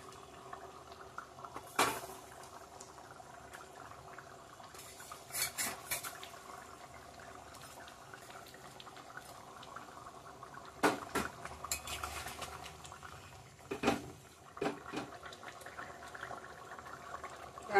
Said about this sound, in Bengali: ঝোলটা ফুটে গেছে ভালো করে, মাছটা এখন দিয়ে দেবো ছেড়ে।